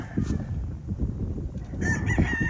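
Young gamecock stags about six months old crow nearby, a couple of overlapping cock-a-doodle-doo calls with clucking fowl around them, loud and close.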